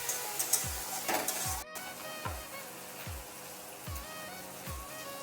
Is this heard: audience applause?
no